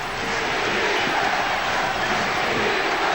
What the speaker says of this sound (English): Crowd shouting defense.